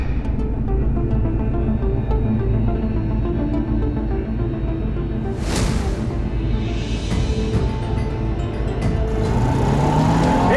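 A car speeds past dangerously close to a pedestrian, its loud engine roaring steadily with a sharp rushing whoosh as it passes midway and a rising engine whine toward the end.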